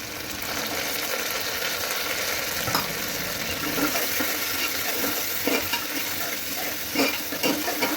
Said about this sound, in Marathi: हे 2 मिनिटे जरा मी तेलामध्ये भाजून घेणार आहे।